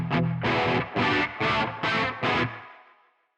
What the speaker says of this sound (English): we're going to check out my favorite one for actually recording guitar, which is their distortion pedals.